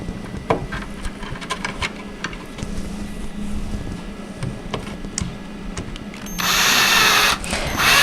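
A cordless power drill drives screws into a doll bunk bed during assembly, with short intermittent whirring bursts and clicks, ending in a louder sustained high spin, close by with no talking.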